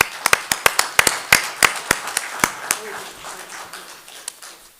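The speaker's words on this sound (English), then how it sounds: "So let's give them a round of applause" Applause from an audience at a township committee meeting: a run of sharp, separate claps, loud and close at first, then thinning and fading over several seconds, with no voices over it.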